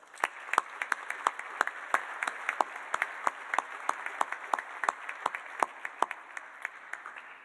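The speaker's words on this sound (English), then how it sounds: "Let's give them a round of applause." A graduation audience at a senior celebration applauds the faculty, a sustained crowd of clapping with sharp individual claps standing out throughout, steady and fairly close.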